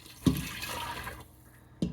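Dissolved bouillon broth pours into a cooking pot of vegetables and yellow split peas, a steady splashing liquid stream framed by a clunk at the start and another at the end, close by with no talk.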